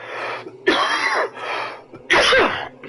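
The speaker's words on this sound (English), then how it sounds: "I'm really sorry about the cough today." Harsh, raspy coughing from someone with acid reflux in several close bursts, with two sharper, louder hacks separated by brief pauses.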